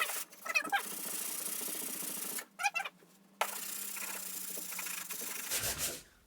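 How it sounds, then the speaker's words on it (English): Filled drywall holes are sanded by hand in close, rasping strokes, with steady rubbing passes broken by short pauses and a fading stroke at the end. "Now it's time to sand those two."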